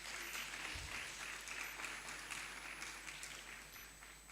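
An audience at a youth investment conference claps in a sustained, even round of applause, faint and distant over a low hum.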